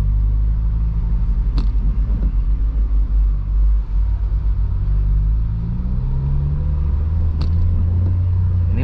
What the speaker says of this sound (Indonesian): Ini mesin meraung